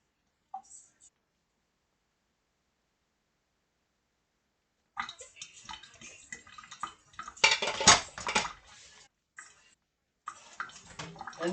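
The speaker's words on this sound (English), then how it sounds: "And this also I'm gonna rinse it with water because there might be dust." A slow cooker bowl is rinsed under running water in a home kitchen, with short splashing bursts and clinks of the bowl between quiet gaps. Faint whispering can be heard.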